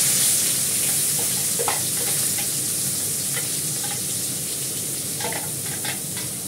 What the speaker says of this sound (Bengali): আমি এবার পেঁয়াজটা দিয়ে দেবো, পেঁয়াজ আর কাঁচা লঙ্কাটা।